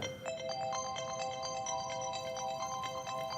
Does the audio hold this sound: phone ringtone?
yes